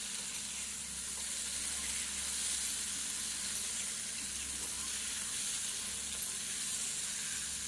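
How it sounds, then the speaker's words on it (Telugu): Tamarind-leaf and nethallu (small dried fish) curry sizzles in a pan as salt is stirred in, giving a steady, moderately quiet hiss that holds evenly throughout with no talking. "ఉప్పు వేసి ఇలా కలుపుదాం"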